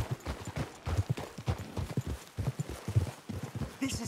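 Horse hooves clip-clop in Red Dead Redemption 2 while riding toward the mountains on a cougar hunt, a steady, close, rhythmic patter of hoofbeats throughout.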